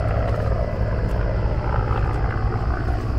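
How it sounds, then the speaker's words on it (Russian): Steady, heavy rotor drone of firefighting helicopters passing overhead during a wildfire in Marmaris, loud and continuous with a deep rumbling throb and no voices. "вот эти вот пожарные вертолеты"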